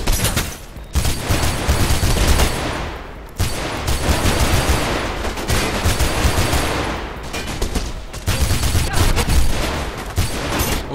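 Sustained automatic gunfire in Mirror's Edge, loud continuous volleys of shots in long bursts with brief gaps, close and dense, with no talking.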